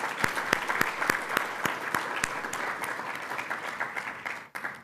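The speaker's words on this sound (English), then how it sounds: "A round of applause" A round of applause at a corporate conference welcoming a new Deputy CEO: moderately distant crowd clapping with distinct individual claps, steady for several seconds, then ending abruptly.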